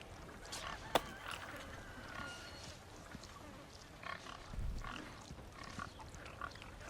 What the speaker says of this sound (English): This is a big pig.